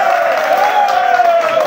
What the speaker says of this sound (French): On applaudit encore pour eux.